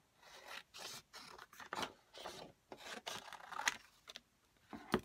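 Black-and-white patterned paper being cut with scissors or a blade before die-cutting, giving a series of short, close rasping snips and rustles in uneven bursts with no talking.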